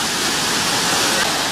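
Seven Falls at Lake Sebu in South Cotabato pours down in a steady, loud, unbroken roar of falling water, close and constant throughout.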